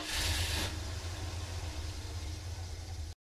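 A truck engine gives a steady low rumble, like idling, with a brief hiss at the start, running evenly before cutting off abruptly.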